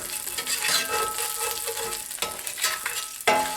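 A roux for a creamy sauce is stirred in a pan still coated with fond from braised chicken and vegetables. It gives a close, continuous sizzle with scraping strokes and a sharp clack near the end, with no voices.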